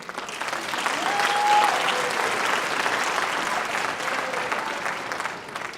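Sustained audience applause at a school winter concert, dense clapping from a crowd swelling slightly then holding steady for several seconds.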